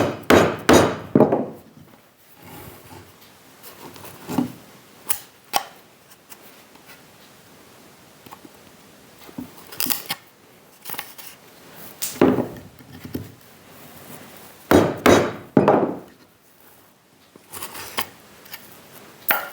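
A mallet strikes wooden lattice joints in traditional Korean joinery, giving irregular bursts of sharp, close wooden knocks and taps separated by quieter pauses, with no talking.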